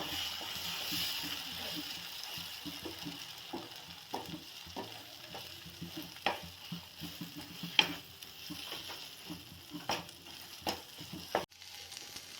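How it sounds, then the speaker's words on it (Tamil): Egg poriyal fries in a pan while a spoon stirs it, with soft sizzling under repeated scraping and clattering strokes close by and no talking. "நல்லா அப்படியே எல்லாத்தையும் நல்லா கலக்கி விடுங்க."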